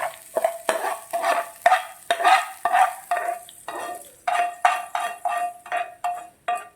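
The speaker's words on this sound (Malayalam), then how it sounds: "കടുക് വറുത്ത് നമുക്ക്" Mustard seeds fry for tempering alongside shallots, curry leaves and dried red chillies for a pineapple pachadi, making close, rhythmic bursts of crackling and stirring in the pan, repeating about every half second.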